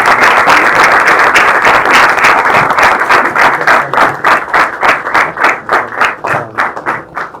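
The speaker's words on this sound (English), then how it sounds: "extending a really, really loud round of applause to our speaker" A large audience applauds a guest speaker at a university event, dense, loud clapping that holds steady and then thins into more distinct, separate claps toward the end, with no talk over it.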